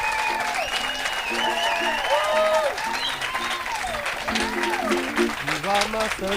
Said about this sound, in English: How about a round of applause for Kat Matthews?